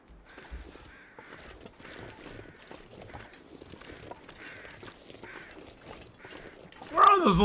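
Birds call repeatedly in the survival video game The Long Dark, faint and somewhat distant against a quiet background, with a louder burst of sound at the very end.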